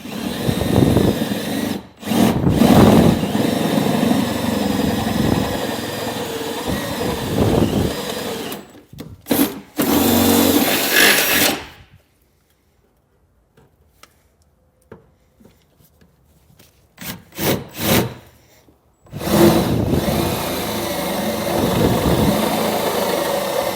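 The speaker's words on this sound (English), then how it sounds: "So now we're going to come back with a 9/16 drill bit and enlarge them out." Drill enlarging holes in a Ford truck frame with a 9/16 bit for a fifth-wheel hitch kit, in several loud grinding bursts separated by near-silent pauses, with no talking.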